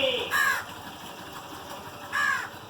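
Two loud, harsh crow caws close by, about two seconds apart, over a quiet background with faint ambient noise.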